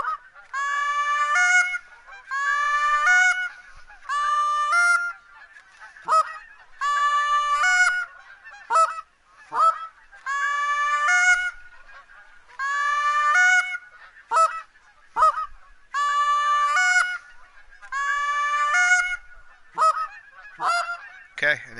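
A flock of geese in theHunter: Call of the Wild honks in repeated loud bursts, rhythmic clusters of overlapping nasal calls coming every couple of seconds over about twenty seconds, close and clear with no speech.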